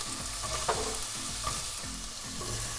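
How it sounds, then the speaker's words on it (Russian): Onion and carrot sizzle and crackle in hot oil while being stirred, with a few soft scraping knocks from a utensil against the pan. "И помешивая, пассерую их."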